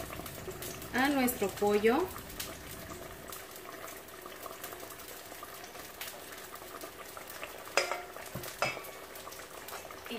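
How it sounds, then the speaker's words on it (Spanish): Leftover sauce stirred into a simmering chicken and vegetable stew, a soft bubbling bed with occasional utensil clinks and scrapes against the pot, close up, with a brief spoken phrase near the start. "vamos a agregar el resto de la salsa que nos sobró."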